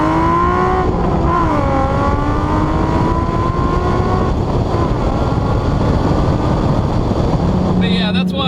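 A Nissan 350Z's naturally aspirated V6 engine revs with rising and falling harmonic tones, loud and close, wind rumbling over the mic, a higher whine appearing near the end.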